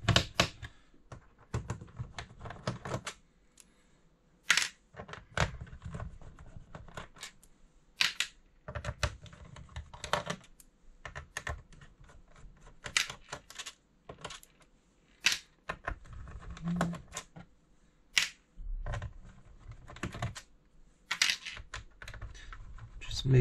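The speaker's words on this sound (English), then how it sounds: "So just need to unscrew the bottom screws." Small screws being undone on the underside of an Asus TUF Gaming F15 laptop, a run of sharp close ticks and clicks with short scraping bursts, irregular and fairly quiet, with no talking.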